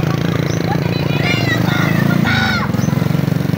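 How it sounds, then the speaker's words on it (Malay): A small motorcycle engine buzzes steadily close by during a school cross-country run, its rough, even drone continuing throughout while children and adults call out and talk over it. "Wah, cepat Putri dah naik motor dah."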